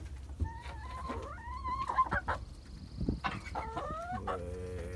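Chickens cluck and squawk at close range around an automatic chicken waterer, with a rooster's short calls mixed in and a steady low background hum from the coop setting.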